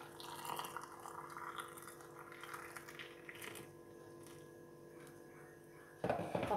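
Boiling water is poured into a jar of cucumber pickles with vinegar, a soft steady liquid trickle heard close but faint, ending with a brief louder clink or splash.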